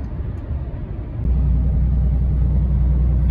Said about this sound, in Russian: не желаете прокатиться со мной на этом сверхзвуковом автомобиле по лазурному побережью Франции?